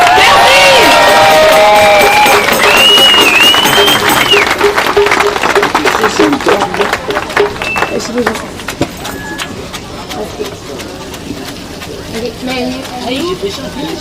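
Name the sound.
audience applauding for the horse Knockout and the carriage driver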